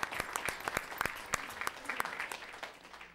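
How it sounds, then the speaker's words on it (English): Scattered applause for teachers at a school board meeting, a small group clapping in quick uneven bursts, fairly faint, and tapering off toward the end. "applause to our teachers"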